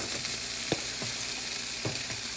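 Cold rice frying on a hibachi grill with peas and carrots, a steady close-up hiss of sizzling with a few soft scraping knocks from a spatula, no voices.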